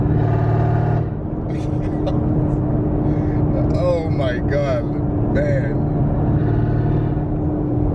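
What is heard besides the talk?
1000 horsepower Camaro ZL1 engine revving while driving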